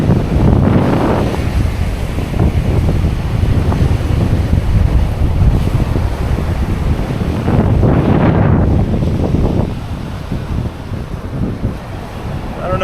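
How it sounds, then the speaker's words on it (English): Strong wind gusting across a Maui beach, roaring and buffeting the microphone in a loud, continuous rush with surf mixed in, swelling around the middle before easing slightly, with no talk. "it'd be like a miracle if the wind wasn't blowing on this side of the island"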